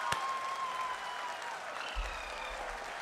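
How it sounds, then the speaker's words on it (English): Applause rises from an audience celebrating a lander module touchdown, a steady wash of many hands clapping at moderate distance throughout, with faint tonal sounds over it and no talking. "People are applauding."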